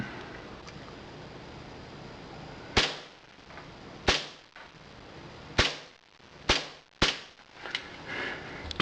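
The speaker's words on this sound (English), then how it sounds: "Let's take some shots with it and see how accurate it is" Six sharp, snappy shots come from a KWC Swiss Arms P1911 CO2 blowback BB pistol fired close by at irregular intervals, each a crisp crack with a short decay over low background noise.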